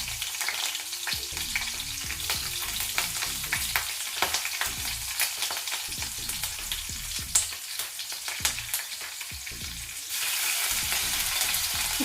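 Ginger garlic paste, cumin and slit green chillies frying in oil in a pan, a constant close sizzle with quick spatula scrapes and stirs throughout, turning brighter and hissier near the end.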